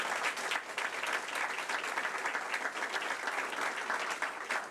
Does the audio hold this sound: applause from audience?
yes